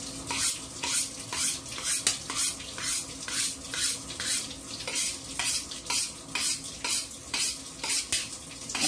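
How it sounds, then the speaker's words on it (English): A kitchen knife drawn repeatedly across a sharpener, rhythmic scraping strokes about twice a second, close and steady with no talk. "So I'm gonna sharpen my knife real quick."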